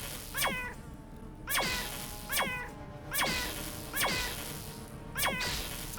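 Cats in combat in the Underrail video game let out about five sharp, descending meows at a steady rhythm, each a loud, clear yowl over a low rumbling game background.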